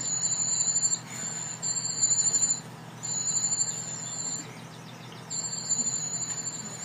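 European cuckoo chick begging in a warbler nest, a rapid, high-pitched squealing call that mimics a whole brood of warbler chicks, repeated in close insistent bursts separated by brief pauses.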